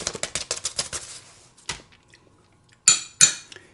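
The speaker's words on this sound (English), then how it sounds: "So now we're ready to mix it. Alright, so first I'm going to put my dry ingredients in." Dry ingredients for hoe cakes are tipped into a mixing bowl: a quick run of clattering, clinking utensil-on-bowl taps, then a pause and two sharper knocks, close and without talk.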